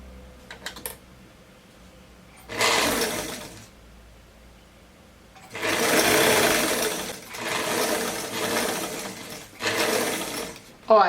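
A sewing machine stitches a flared dress in short bursts, a brief one followed by longer stretches of steady close whirring, with quiet gaps and small clicks in between.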